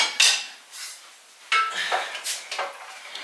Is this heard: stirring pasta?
yes